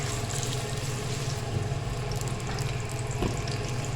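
Finely chopped onions, a cup of them, sizzle in plenty of hot ghee on low gas heat, a steady dense frying hiss that holds evenly throughout with no talking.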